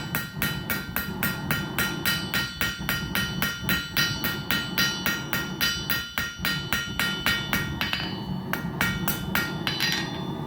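Steady, rapid metal hammer strikes on a titanium knife bevel ring out close by, a fast even rhythm of sharp clanks sustained throughout with no talking.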